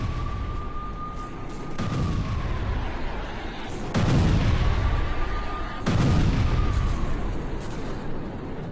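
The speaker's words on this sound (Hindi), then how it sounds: "गाजा पर इजरायल की भीषण बमबारी से जुड़ी हुई ये तस्वीरें" Heavy bombing in the Gaza Strip: a series of deep, rumbling explosions booms out, with big blasts landing roughly every two seconds over a continuous low roar. A faint whine drifts through the background.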